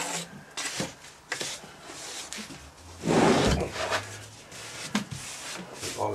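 A strickler rasps across a box of casting sand, leveling off the excess in a few dry scraping strokes, with one longer, louder drag in the middle.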